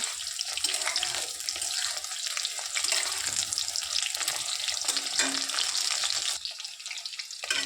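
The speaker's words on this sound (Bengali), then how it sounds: "পটলগুলো ভেজে নিচ্ছি দেখো ভালো করে" Pointed gourd (potol) frying in oil, a dense continuous hiss and crackle close by, steady and fairly loud for the whole stretch.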